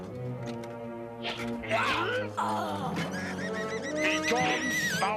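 A cartoon bird honks like a goose amid busy orchestral score and sound effects, with animated character voices shouting over it at close range.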